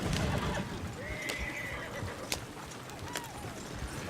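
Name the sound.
horse neighing, from the video game Red Dead Redemption 2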